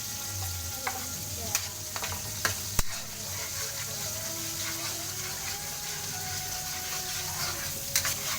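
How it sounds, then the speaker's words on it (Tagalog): Garlic fries in hot oil while being stirred toward golden brown, a steady close sizzle broken by occasional sharp spoon taps and scrapes against the pan, no voices. "Yung bawang, hinalo-halo hanggang maging golden brown."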